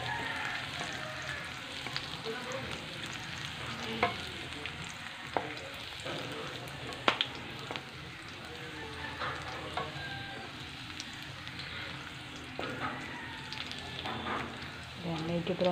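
Garlic browning in a pan for Filipino chicken tinola gives a steady close sizzle with scattered crackles and small clinks, running throughout at moderate level.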